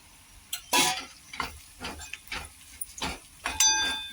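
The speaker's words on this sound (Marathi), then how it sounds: "लाल मिरची कांदा लसूण मसाला हळद आणि धनिया पावडर घेतली आहे टाकूया ह्याच्यात मसाले असं परतून घेऊ" Onion, garlic, red chili, turmeric and coriander powder are sautéed in a pan for a tomato chutney. A steady soft sizzle is broken by irregular, close scraping stirs of a spoon against the pan, with no talking.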